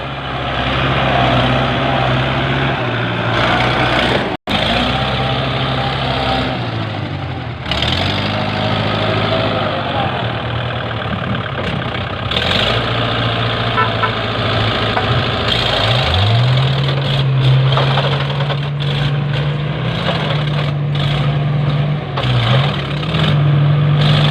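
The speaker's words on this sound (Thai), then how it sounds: "รถไถมาดันตูดแล้ว" A farm tractor engine labors while pushing a Fuso dump truck stuck in mud, a loud continuous diesel drone with knocking and shifting revs that rise and settle throughout, close and dominant with no talk.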